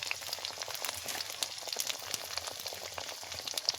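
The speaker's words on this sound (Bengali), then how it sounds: "মাছ পাতুরি সুন্দর সেদ্ধ হয়ে গেছে" Mach paturi, fish wrapped in leaves, steams and sizzles in a pan, giving a dense, continuous crackling hiss with fine bubbling pops, fairly close.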